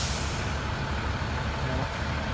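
Heavy vehicle, likely a city bus, rumbling low and steady in street traffic as it turns, a continuous near engine drone with a brief hiss-like airy wash, no talking.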